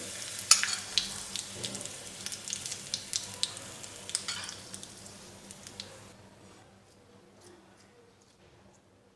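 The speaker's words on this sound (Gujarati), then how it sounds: "વઘાર આપણે ઢોકળા ઉપર રેડી દઈએ।" Hot tempering oil with mustard seeds, chillies and sesame seeds is poured over steamed dhokla, bursting into a crackling sizzle dotted with sharp pops that gradually fades to near silence.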